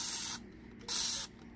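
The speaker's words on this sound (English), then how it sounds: "Oh God, this thing is hard to spray." Two hissing bursts of Dawn Powerwash dish spray from a trigger spray bottle, close and fairly soft, separated by a short pause.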